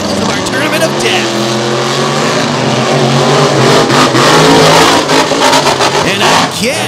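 Monster truck engines roar and rev continuously at Lake Erie Speedway during a three-wide race final, loud and sustained with rising throttle, under an announcer's steady commentary.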